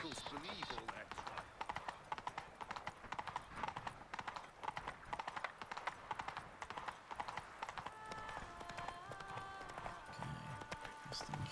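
Horse hooves clip-clop in a steady running rhythm across dirt in The Witcher 3, with occasional neighs and game music tones emerging near the end.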